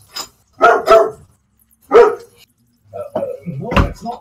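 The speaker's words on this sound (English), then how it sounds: "Is that your dog?" A dog barks in a few sharp, loud bursts, some doubled, separated by short silences, with people talking nearby between the barks.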